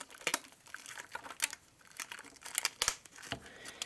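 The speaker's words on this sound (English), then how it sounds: "I've got the plastic bag again, which I would just put on to sort of help keep the water out." A thin plastic bag is fitted over a laser trigger device to keep water out, giving close, quiet crinkling and rustling in short irregular bursts.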